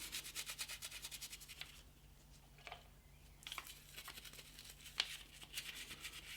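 A toothbrush with soapy water scrubs a grimy BMW GSA rear brake caliper around the pistons, giving quiet, rapid rhythmic bristle rubbing that pauses briefly and then resumes, close and soft.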